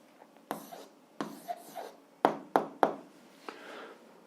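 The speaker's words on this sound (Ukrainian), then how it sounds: "Ну що ж, записуємо відповідь." A pen writes down an answer to an algebra exercise on paper in a handful of short, quiet, close scratchy strokes separated by brief pauses.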